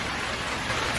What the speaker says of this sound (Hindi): जोरों की बारिश हो रही है